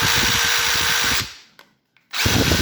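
A worn Dewalt DCF887 impact driver motor whirs loudly and close, cuts out abruptly for nearly a second with a couple of faint ticks, then kicks back in, a stuttering miss in the motor.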